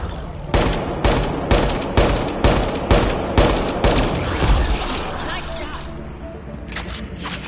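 Rapid rhythmic turret fire in the sci-fi game Mass Effect: Andromeda, about a dozen evenly spaced heavy shots close by that thin out and stop near the end, with speech over the start.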